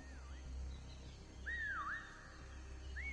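A whistle in a PS5 video game, heard as a few rising and falling tonal sweeps over a steady low rumble. The longest sweep comes near the middle, and a shorter one opens and closes the stretch.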